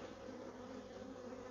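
A dense swarm of bees buzzes continuously at a hive being split from an aggressive colony, a steady low drone that is faint but fills the whole moment.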